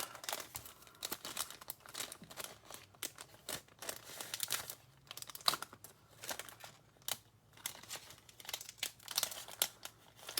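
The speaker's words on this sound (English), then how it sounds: "You pull the plastic sheet off, then these things pop off." A clear plastic sheet peeled away from card-making embellishments, with close, soft crinkling and crackling in irregular bursts and small pops over about ten seconds, with no talking.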